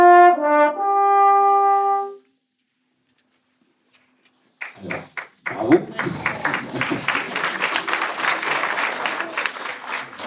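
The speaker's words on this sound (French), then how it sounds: "On peut l'applaudir." A concert band's sustained chord fades to silence, and then audience applause breaks out for a soloist with a few scattered claps that swell into dense, continuous clapping from a hall full of listeners.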